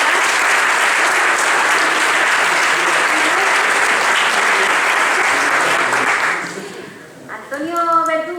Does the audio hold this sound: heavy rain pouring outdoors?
no